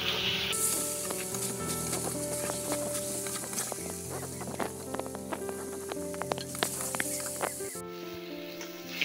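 Potatoes fry in a pan for a Bengali-style fish curry, a steady close sizzle running for most of the stretch, with scattered stirring clicks and a quieter tail at the end.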